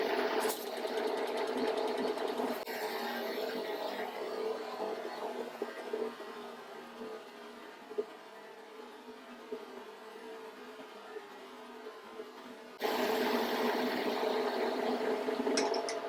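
A carbide insert cuts a small chamfer on a corner of hardened steel on a machine tool, a steady mechanical whir and rumble with a quieter stretch in the middle of the cut before the louder running sound returns.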